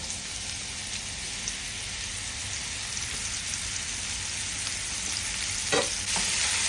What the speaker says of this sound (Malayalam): മഷ്റൂം നല്ല എന്താ പറയുക, ഡാർക്ക് ബ്രൗണായി നല്ല ഡ്രൈ ആയി അതിൻ്റെ വെള്ളമൊക്കെ വലിഞ്ഞ് ഡ്രൈ ആവുന്നവരെ ഹൈ ഫ്ലെയിമിൽ സോട്ട് ചെയ്യുക.